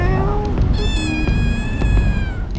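A street cat on the Asian side of Istanbul gives a loud, close series of drawn-out meows, one long call after another with brief breaks between them.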